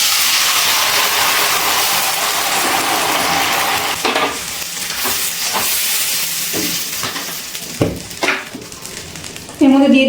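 Tomato juice from boiled tomatoes poured into hot oil for a tomato, date and aamsotto chutney, sizzling loudly and steadily while a spoon stirs and scrapes the pan in occasional clinks.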